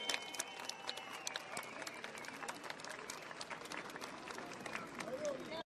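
Crowd applause at a political gathering in Malatya, Turkey, with scattered sharp claps over a murmur of voices, fairly distant and faint, stopping abruptly at the end.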